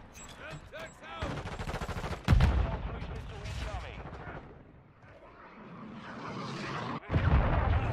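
Two heavy, booming shotgun blasts go off in Call of Duty: Modern Warfare 2, well separated amid game noise, with voices talking in between.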